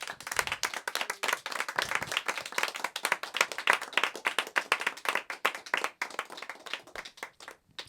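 An audience claps at a concert performance, with distinct individual hand claps forming a fairly sparse, uneven patter that continues steadily and thins out near the end.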